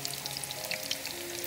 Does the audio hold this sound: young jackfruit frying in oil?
yes